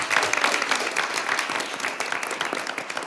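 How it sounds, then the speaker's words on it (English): Applause fills a school board of education meeting as the audience claps steadily together, a dense, even patter from a roomful of hands that holds at a moderate level throughout. "If we could give them a round of applause."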